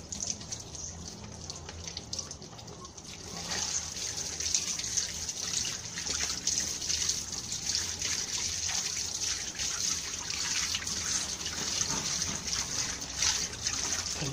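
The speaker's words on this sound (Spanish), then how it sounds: "Esto es para la gente que no sabe cómo se enjuaga el filtro, cómo se lava." An air conditioner filter is rinsed under a running tap, a steady hiss of flowing water that grows louder after a few seconds, with splashing and dripping as the water hits the filter.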